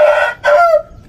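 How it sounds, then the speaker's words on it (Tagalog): A rooster crows loudly and close by, a short two-part call with a brief break before a falling final note. "Ayan yung manok ni Saldimo."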